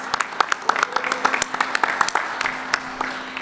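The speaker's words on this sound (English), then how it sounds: "Give her a round of applause" Audience at a town hall meeting on city housing bursts into steady, dense clapping that fills the room, a crowd applauding together with no pauses.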